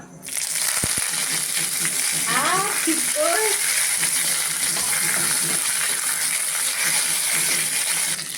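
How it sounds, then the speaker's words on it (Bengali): Curry leaves fry in hot oil for potato chops, a loud, unbroken sizzle from start to finish. Faint squeaky chirps cut through it early on. "এবার কারি পাতাটা একটু ভাজা ভাজা করে নেব"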